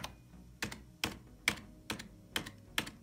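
Slow, evenly spaced keystrokes on a streamer's computer keyboard, about seven distinct close clacks at a steady rhythm over a quiet background.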